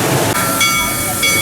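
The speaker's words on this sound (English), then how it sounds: "Six Flags St. Louis is home to a big old train." A big old steam train at Six Flags St. Louis hisses steadily and loudly, a continuous broad rush of venting steam that holds its level throughout with a faint whistle-like tone inside.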